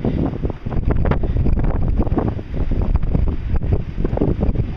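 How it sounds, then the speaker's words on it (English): Strong wind roars and buffets a microphone in continuous surging gusts during rainy Pacific Northwest weather, loud and close, with a rumbling low end and no speech. "It's rainy, and if you guys can hear the wind"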